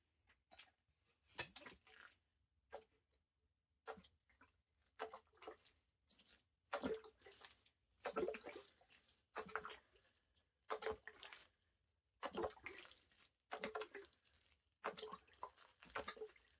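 Water splashing and dripping while a repotted giant sequoia seedling is watered indoors, irregular bursts of pouring and spattering separated by quiet gaps, close and fairly soft.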